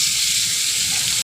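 Hot oil hisses in a wok before shrimp go in, a dense, even sizzle lasting just over a second with no voices.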